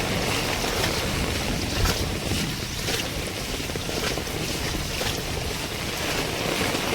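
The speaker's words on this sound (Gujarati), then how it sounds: "બહુ વરસાદ ચાલુ છે." Heavy monsoon rain in northern Gujarat, falling steadily onto flooded roads, makes a dense, continuous roar of wash and spray with gusty wind noise, loud and unbroken throughout with no talking.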